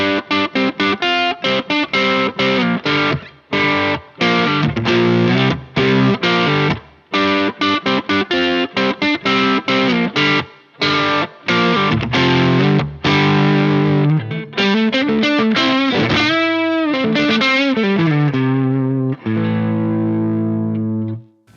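Electric guitar driven through an SD overdrive pedal into an amp, producing a loud, continuous stream of crunchy, mid-heavy chords and riffs with choppy strums, ending on sustained ringing notes.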